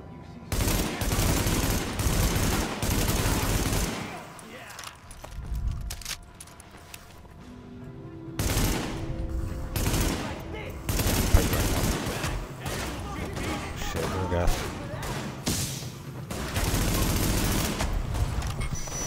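Gunfire in the video game The Division: repeated loud bursts of automatic fire and single shots in uneven clusters, broken by short quieter gaps with mechanical clicks and rattles, some faint voices under the shooting.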